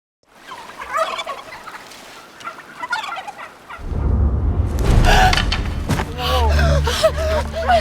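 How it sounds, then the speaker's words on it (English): Turkeys gobble in loud, rapid, warbling bursts, with other fowl noise in the background. The gobbling starts halfway through and grows stronger, after fainter bird calls and some voices at the start. "Yep, and here are turkeys."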